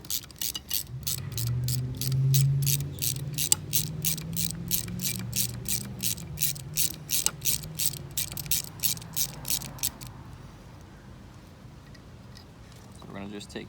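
Ratchet on a socket wrench with an extension clicks in rapid regular bursts while loosening bolts on a 2006–2007 Yamaha 4hp four-stroke outboard tiller motor, close up, over a low background hum.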